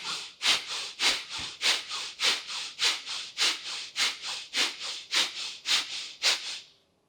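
Kapalabhati yoga breathing: a steady series of about eighteen sharp, forceful nasal exhalations, evenly spaced roughly every third of a second, close and clear with no talking.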